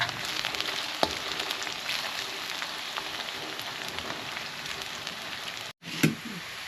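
Ginger and garlic frying in a pan for a homemade pickle, a steady close hiss and crackle throughout, with a brief cut near the end and a stir clink after.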